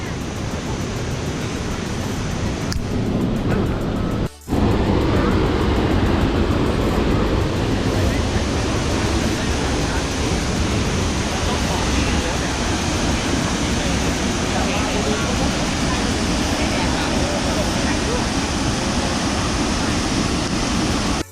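A waterfall on a Khao Yai forest nature trail gives off a loud, steady, hissing roar of falling water that fills the whole stretch without pause, broken only by a brief dip early on.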